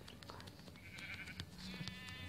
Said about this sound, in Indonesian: Itu dia dombanya.